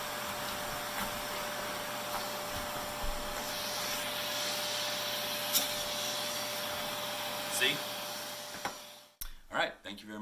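A Festool Midi dust extractor runs as a steady, loud broadband hum with a faint tonal whine, cutting off abruptly near the end, followed by a few brief knocks.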